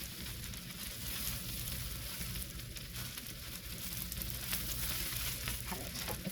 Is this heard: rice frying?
yes